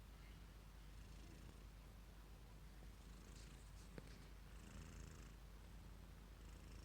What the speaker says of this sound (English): She's a purry cat.